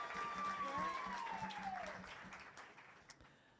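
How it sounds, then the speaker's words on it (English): Audience applause for a startup pitch at a Startup World Cup regional event in Oklahoma, a broad wash of clapping that starts fairly strong, fades gradually, and carries a whistle-like tone early on. "Can we give a warm round of applause to LeadMeNot?"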